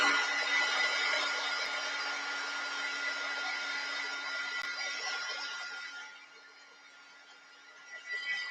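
A hair dryer blows continuously to dry paint on a mixed media art piece, a loud steady whoosh that drops off near the end as it shuts down.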